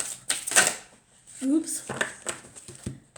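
Tarot cards are handled at a table, giving short papery riffles and flicks in a few bursts, close by, while a person speaks.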